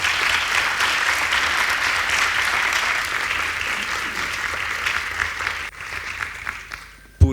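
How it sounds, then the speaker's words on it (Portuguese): Conference audience at a BIOMEET 2023 round-table on new medicines and advanced therapies claps steadily for the speakers, the applause fading out near the end before a brief sharp noise. "Eu pedi uma salva de palmas para eles."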